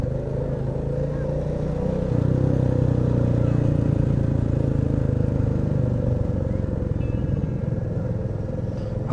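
A continuous low motor drone of motorcycles on the move, steady throughout with slight swells, heard from close by as if riding along.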